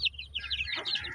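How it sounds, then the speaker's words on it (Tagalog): Asil rooster and chicks on a small poultry farm, giving several short, bright clucks and chirps in a quick irregular run at moderate distance, with no talk over them. "ito yung ating isang asil tandang natin"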